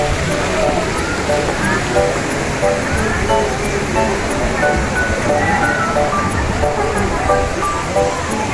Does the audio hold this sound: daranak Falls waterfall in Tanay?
yes